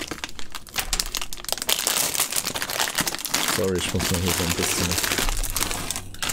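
Close, dry crinkling and crumpling of what sounds like paper or foil, in bursts of rustling under someone talking in German, with a louder crackly stretch midway.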